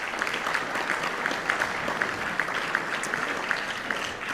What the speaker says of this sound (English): So a round of applause for those very important people to us.